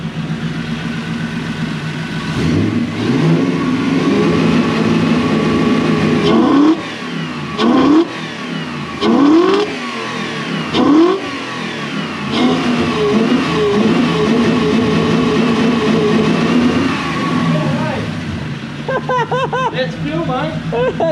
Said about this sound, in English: let me just push the gas